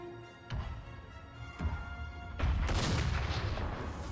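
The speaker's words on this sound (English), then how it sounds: "Getting some wonderful shots with our cannons, by the way." Cannons fire in a Napoleonic-era battle in the strategy game Napoleon: Total War, three booming shots spaced over a few seconds, the last heaviest and rolling into a long rumbling tail of distant gunfire.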